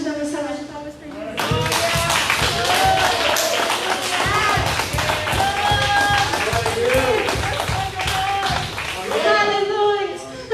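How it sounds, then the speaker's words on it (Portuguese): Rhythmic group clapping at a church service fills the room, mixed with singing voices and music after a brief quiet start. "Você pode dar uma salva de palmas para ele?"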